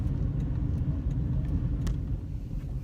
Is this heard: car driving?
yes